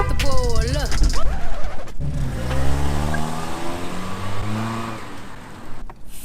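An Infiniti G35 engine revs up and sharply falls away, then its sound drops off abruptly as the car stalls, close and loud, with a voice talking over part of it.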